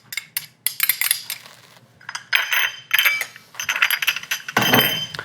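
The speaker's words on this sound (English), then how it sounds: "we'll stir that all together" A metal utensil stirs a ricotta mixture with Parmesan and lemon zest in a bowl, producing close, irregular clinking and scraping bursts with brief pauses between strokes, no talking.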